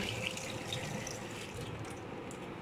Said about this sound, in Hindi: ये थोड़ा सा धो लेंगे हम उसको पानी से, ताकि मिट्टी निकल जाए सारी।